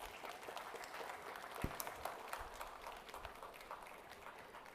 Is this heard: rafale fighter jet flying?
no